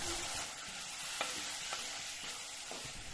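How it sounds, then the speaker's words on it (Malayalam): Finely chopped breadfruit is stirred through a pan for a Kerala-style curry, giving a soft low sizzle with a handful of light spoon scrapes and taps, quiet and close. "ചെറുതായി അരിഞ്ഞു വെച്ചിരിക്കുന്ന കടച്ചക്ക ചേർത്തിട്ട് ഒന്ന് ഇളക്കി യോജിപ്പിച്ചെടുക്കാം"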